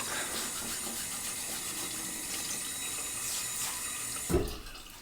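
Tap water runs steadily from a bathroom faucet while a face is washed with foaming cleanser, a continuous close hiss and splash with a brief louder splash near the end.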